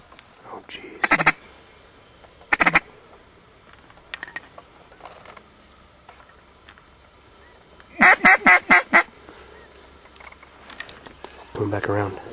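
Ducks quacking during a duck hunt on the Upper Columbia: scattered loud quacks early on, then a quick run of five sharp quacks in a row, with people talking in between.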